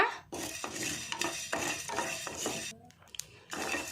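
Mustard seeds, cumin and coriander dry roasting in a pan for a Tulu-style basale sukka, with a spoon repeatedly scraping and clinking against the metal in an uneven stirring rhythm, close and fairly quiet.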